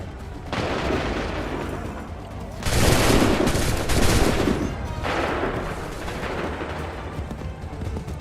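Massed musket volleys in Assassin's Creed III, loud rolling bursts of many muskets firing together, with a big crackling volley near the middle flanked by other sustained rumbling salvos.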